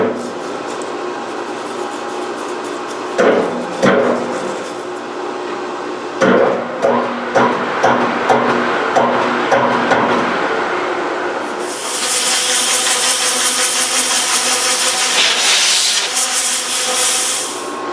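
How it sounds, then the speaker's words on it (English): Precision Matthews TL1640 lathe running in short jogged spindle bursts while the threaded spindle nose is cleaned, with rhythmic mechanical whirring and rubbing that gives way to a steady, loud hissing wash of noise near the end. "Cleaning out the threaded portion of the spindle now. Using the jog feature."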